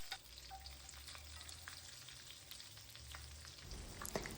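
Red onion and green chillies fry in a pan with a faint, steady sizzle and a few soft stirring scrapes, quiet and continuous with no voices.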